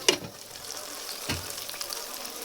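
Bottle gourd leaf paturi frying in a pan and being turned over, a soft, fairly quiet sizzle with a sharp clack at the start and a brief scrape partway through.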